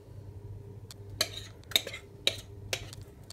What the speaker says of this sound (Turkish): Bir kaşık yardımı ile içini sıyıralım.